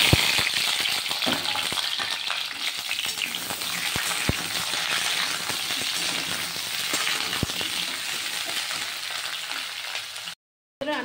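Ripe tomatoes and whole green chillies hit hot oil with frying garlic and black cumin, making a loud, continuous crackling sizzle with scattered pops and spoon taps, briefly cutting out near the end.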